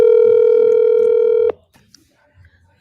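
A telephone tone sounds on a call, a loud steady single-pitch beep lasting about a second and a half before cutting off abruptly, followed by near silence with faint room noise.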